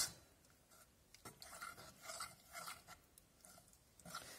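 A spoon stirs melted butter and chocolate together in a bowl for chocolate fondants, giving soft, close scraping and rubbing strokes in a quiet room.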